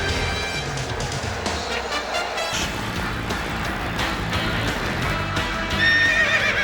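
A horse in a horse trailer commercial aired during an NFL game broadcast, whinnying loudly and close over the steady clip-clop of hooves, with a second neigh near the end.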